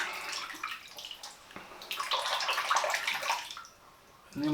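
Hot tap water runs over a razor blade, a close splashing gush that swells and fades over several seconds, with a brief gurgle at the end.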